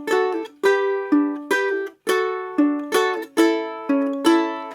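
Ukulele fingerpicked in a repeating string pattern of 4, 2, 1, then 3 plucked with the thumb, clear bright notes ringing in a steady rhythm, close and alone with no talking.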